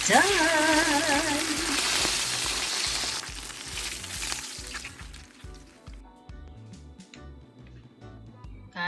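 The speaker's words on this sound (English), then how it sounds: "I'm gonna start frying my fish number 2" Fish frying in hot oil for Jamaican brown stew fish gives a continuous close sizzle and crackle. It is busiest at the start and thins to scattered pops, with a brief spoken word near the end.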